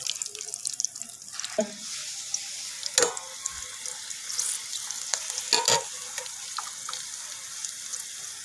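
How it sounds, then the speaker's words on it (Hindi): A steady hissing sizzle of cumin seeds frying in hot oil for a dal tadka, with occasional sharp pops and a few clinks of a utensil stirring. "ज़ीरा देखें हमारा अच्छी तरह फ्राई हो गया है।"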